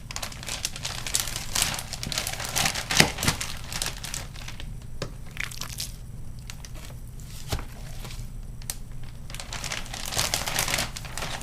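Jumbo 2.5 gallon Hefty One Zip plastic bag crinkles and rustles up close as bacon slabs are packed inside, a steady run of crisp crackling with louder bursts, no talking.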